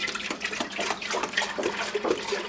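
Whole milk poured from a gallon jug into a pan while making mozzarella cheese, a soft, gurgling splash of liquid with uneven pulses.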